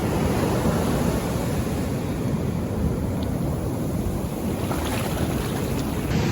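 Continuous rushing surf during a storm at Inyadda Beach, New South Wales, with steady wind noise, waves washing in close by with no voices.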